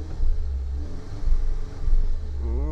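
2023 Alfa Romeo Stelvio Q4 Competizione with a 2-liter turbo four-cylinder petrol engine producing 280 hp: a deep, steady low rumble from inside the cabin, swelling slightly in a few pulses, quiet and smooth.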